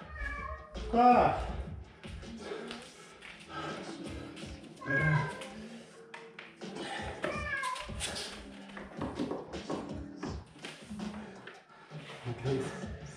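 A small cat meows in short bursts close by, several calls spread through the clip amid people talking in French and household noise.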